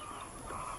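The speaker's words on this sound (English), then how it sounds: "across there you can see the chickens that we have already" Chickens clucking on a Mindanao farm that keeps a couple hundred laying hens, a steady low murmur of the flock heard from across the yard at moderate distance.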